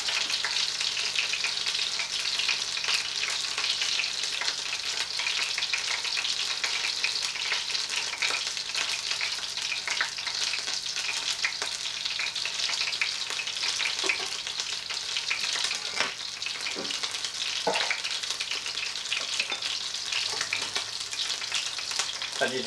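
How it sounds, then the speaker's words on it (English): Beer-battered fish deep frying in hot oil, a loud, steady crackling sizzle with scattered pops and bubbling, close up and continuous with no voices. "That's nicely frying."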